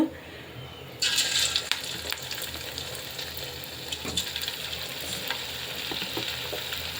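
Chicken pakoda pieces drop one by one into hot oil for street-food-style frying, and the oil breaks into a loud, steady sizzle that fills the clip, with a few faint clinks and stirring sounds over it.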